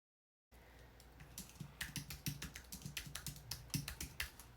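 Rapid, uneven keystrokes on a computer keyboard, a steady run of soft clicks with occasional louder taps, close and alone against faint room hiss.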